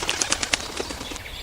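A cartoon pigeon flaps its wings on arrival, a quick series of soft fluttering beats close by that fades toward the end.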